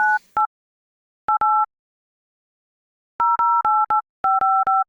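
Telephone call being placed: a short series of clean two-tone electronic dialing beeps, single tones and quick runs of three, loud and isolated with silent gaps between them.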